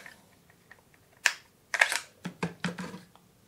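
A Bushmaster ACR rifle's bolt drops out during disassembly, giving a handful of sharp, close metallic clacks and clicks in a short, irregular cluster.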